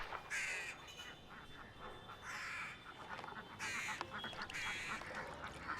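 Ducks quack and honk in bursts at a moderate distance, with repeated calls over a steady outdoor background.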